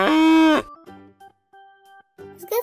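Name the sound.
cow mooing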